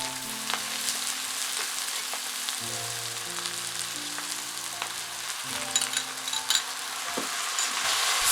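Noodles with mushrooms, onion and sauce stir-fry in a pan for shrimp chow mien, giving a steady frying hiss broken by occasional utensil scrapes and light clinks, with a low hum running underneath.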